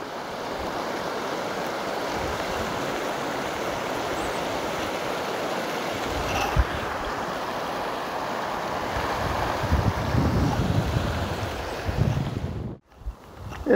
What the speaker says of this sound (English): Creek crossing number 2.